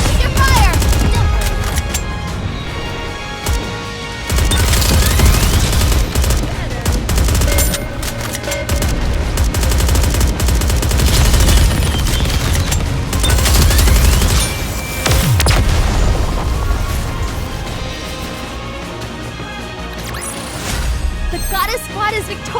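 Dense automatic gunfire and rapid bursts from the Goddess of Victory: Nikke video game, loud and continuous, mixed with booms and game music, with character voices calling out over the shooting.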